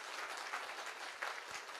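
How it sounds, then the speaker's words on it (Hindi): An audience at a Vedvedya Life Sciences company event applauds the firm's MD and CEO, producing a dense, steady wash of clapping that holds at a fairly quiet level, with no voices standing out. "मैं चाहता हूं कि आज की अब तक की सबसे जोरदार तालियां कंपनी के एमडी एंड सीईओ श्रीमान पदम सर के लिए"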